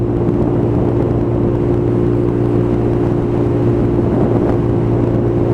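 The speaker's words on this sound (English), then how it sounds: "Throttle's full bore, there we go" A Lexmoto Tempest 125 motorcycle held at full throttle, its steady engine drone and low hum continuous and loud throughout, with wind rush over the ride.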